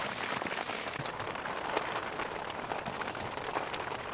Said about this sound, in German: es ist auf jeden Fall Regen